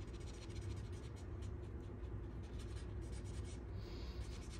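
Colored pencil or marker rubbing steadily on paper to add shadowing on a money holder gift card, a close, quiet scratchy stroking that keeps going throughout, no talking.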